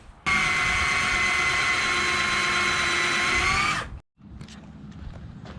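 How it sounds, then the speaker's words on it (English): An eraser wheel on a power tool strips old double-sided tape off the tailgate of a 2003-2006 Silverado truck, giving a loud, steady high-pitched whine for several seconds before it abruptly cuts off. "I'm going to take that eraser wheel to it and see if I can't get most of it off"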